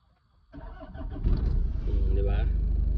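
A car engine cranks and catches after a brief quiet start, then settles into a steady, loud idle close by while a person talks over it.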